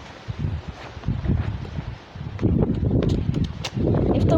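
Strong gusting wind in a severe dust storm buffets the microphone in rough, uneven surges with rustling debris, growing heavier and more sustained toward the end. No one speaks.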